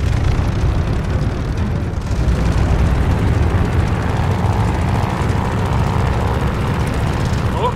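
A World War II propeller fighter's engine in the game Call of Duty Vanguard fires up and roars, a loud, dense, continuous drone and rumble that holds for several seconds.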